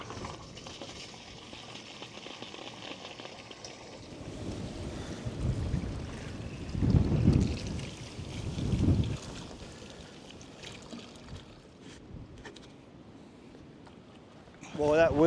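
Strong gusty wind blowing near a house during a nearby fire, roaring and buffeting the microphone in heavy surges, loudest in the middle, with a voice speaking at times.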